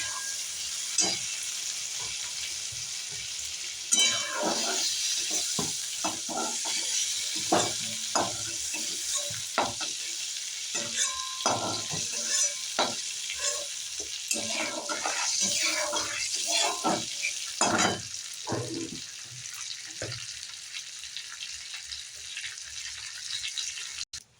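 Eggplant frying in hot oil for a hilsa fish curry, giving a steady sizzle with repeated stirring and scraping clatter through most of the stretch, fairly close, with no talk.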